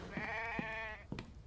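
A small sheep in a survival video game bleats several times in a row, with short wavering calls over a low game ambience and no talking.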